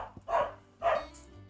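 Two short barks from a dog, close and moderately loud with a pause between them, followed by a faint higher yip over low background hum.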